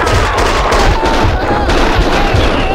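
Rapid bursts of gunfire in the action shooter Max Payne 2, loud and dense, with a faint voice underneath.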